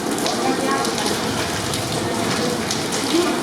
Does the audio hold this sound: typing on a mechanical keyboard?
no